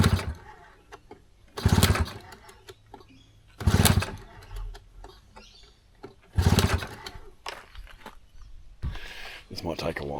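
Small outboard boat engine being pull-started after fuelling, with a recently cleaned carburettor: repeated loud bursts of cranking, each a second or two long, separated by quiet pauses with birds faintly in the background.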